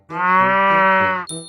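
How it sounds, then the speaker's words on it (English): A cow gives one long, loud, sustained moo lasting over a second, followed by a brief bright ding. "Cow."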